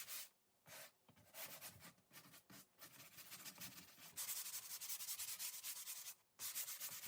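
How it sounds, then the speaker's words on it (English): 220 grit sandpaper is rubbed across a pantry door surface painted over chalkboard paint, making soft, steady back-and-forth scratching strokes with brief pauses, quiet and close. "now I'm coming back with 220 grit sandpaper to smooth out the surface even more"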